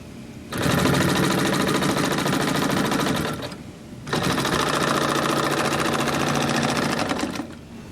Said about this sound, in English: the feed roller starts to move as the needle bar comes out of the material